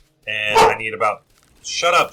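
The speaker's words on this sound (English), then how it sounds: "I apologize for my dog's barking." Dog barking indoors at a helicopter outside, a couple of loud close barks breaking through as someone speaks.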